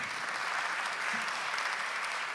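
A concert audience applauds an orchestra, a short, steady wash of many hands clapping at moderate, somewhat distant level.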